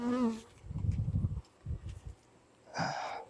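A few honey bees buzz around a small, weak hive colony in a yard, the droning coming in short, uneven bursts separated by brief lulls.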